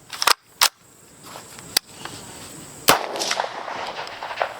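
A 13.7-inch 5.56 rifle with a Griffin compensator firing unsuppressed outdoors. Five sharp, loud, concussive cracks come at irregular intervals, some trailing into echo.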